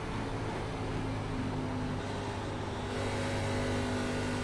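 An ARCA stock car engine in the iRacing game drones steadily at high revs around Texas, a loud continuous roar with sustained tonal whine and no let-up or speech.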